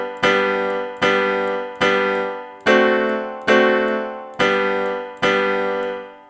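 Ode to Joy section A melody notes on a single pitched instrument, eight evenly spaced struck notes that ring and decay one after another, close and clear with no voice.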